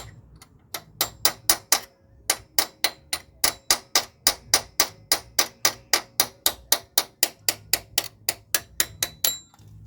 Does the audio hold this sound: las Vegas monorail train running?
no